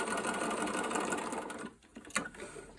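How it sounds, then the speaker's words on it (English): A sewing machine runs steadily, stitching along the raw edge of a pair of jeans, its close motor whir continuous for most of the moment before stopping and giving way to a few handling clicks. "And then carry on just stitching all the way along this raw edge."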